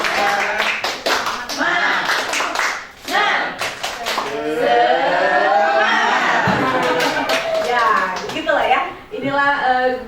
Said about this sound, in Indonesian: Teman-teman boleh kasih tepuk semangat.